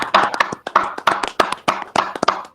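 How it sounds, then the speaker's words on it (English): Sparse clapping from a few pairs of hands at a software development award ceremony, uneven rhythmic claps close to the microphone, with no voices. "like unmute and clap for her, please."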